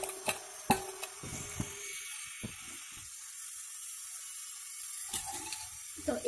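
Leafy greens are washed under a kitchen tap, with water gushing and splashing in bursts, a quieter stretch in the middle, and knocks and rustles of handling close by.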